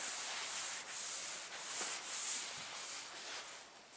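A tack rag wipes over fresh car paint during a candy apple red over metal flake paint job, making a soft, continuous rubbing hiss with faint rhythmic strokes, close and quiet.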